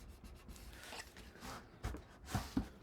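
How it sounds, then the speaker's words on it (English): Burnishing a paper score line on card while making a mini album: soft, quiet rubbing and scraping strokes in an uneven rhythm, with a few slightly firmer passes near the end. "I'm gonna keep it open and burnish."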